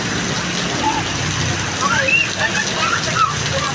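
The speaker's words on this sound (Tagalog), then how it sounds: "Ang ulan." Rain falls steadily in a broad, continuous hiss of drops splashing on surfaces, with faint voices and a few thin high chirps in the background.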